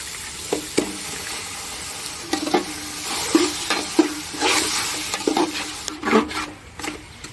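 Beef stir-fried with spices in a pan sizzles steadily while a utensil scrapes and stirs in irregular bursts, close and fairly loud.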